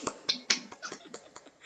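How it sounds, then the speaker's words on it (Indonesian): A group of students at a university training session clap their hands together, a quick run of sharp, fairly close claps in an uneven rhythm. "Ya, tepuk tangan untuk kita semua."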